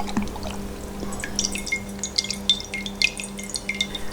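Gelatin sheets soaking in water give off soft, scattered drips and small liquid splashes, close and fairly quiet, with a low steady hum underneath.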